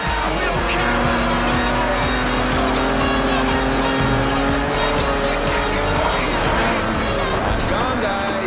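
Cars racing in the Forza Horizon video game, with loud, continuous engine roar and screeching tire squeal, dense and close throughout, while a voice talks over the action.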